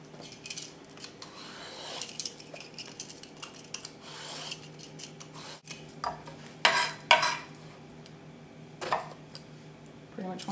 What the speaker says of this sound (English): I'll start with peeling and cutting the eggplant.